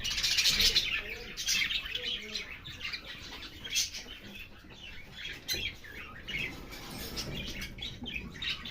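A pair of pet lovebirds kept in a cage, chirping in quick, thin, repeated tweets that run throughout at moderate closeness, fairly faint, with a little faint background voice.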